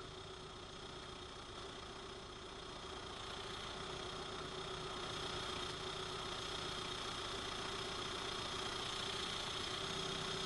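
A Rover K-Series engine idles steadily during tuning adjustments, an even mid-pitched hum with a faint vibration that swells slightly louder partway through, heard alone without talk.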